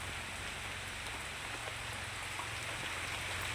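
Steady rain falls near a road, a dense continuous hiss of drops on the surface that stays even throughout, with no voices.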